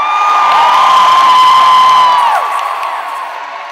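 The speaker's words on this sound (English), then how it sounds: "Please give Tim Kaine a big round of applause." A big crowd at a political rally cheers loudly for Tim Kaine, a swelling roar of voices and whoops, close and powerful, that peaks and then gradually eases off.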